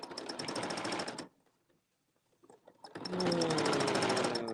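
A sewing machine stitches fabric in two loud, rapid bursts of running, split by a quiet pause of about two seconds, with no one speaking over it.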